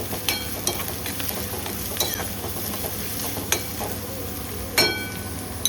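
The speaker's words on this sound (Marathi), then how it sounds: "आणि ह्या कांद्याला थोडंसं व्यवस्थित ढवलायचं आहे." Chopped onion sizzles steadily in a hot pan while a spoon stirs it, with sharp scraping clicks and taps cutting through the constant frying hiss. Nobody speaks.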